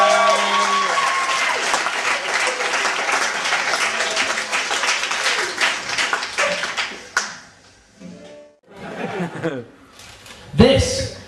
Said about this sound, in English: Oh, round of applause everyone.